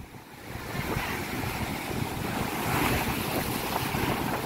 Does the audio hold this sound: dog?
no